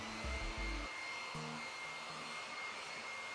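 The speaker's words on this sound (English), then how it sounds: "I've got the advantage of having a hair dryer. And so I'm going to turn that on now and dry this thing" A hair dryer drying a watercolor painting blows with a steady, airy whine, running continuously and close by.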